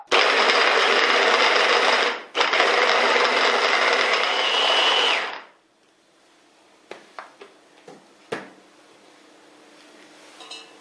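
An electric blender grinds soaked chickpeas and spices for falafel with a loud, steady whir that dips once briefly and then stops, followed by a few scattered clinks and knocks of utensils in a quiet kitchen.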